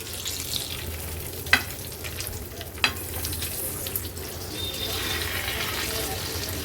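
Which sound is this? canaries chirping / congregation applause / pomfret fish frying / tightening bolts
pomfret fish frying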